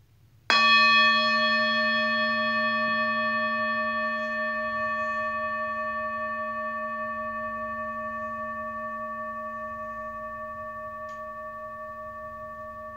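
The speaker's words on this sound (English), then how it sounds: "Just let yourself follow the sound of the bell. Follow it as it fades into silence." A meditation bell is struck once, close and clear, and its bright ringing tone slowly fades toward silence over many seconds against a faint room hush.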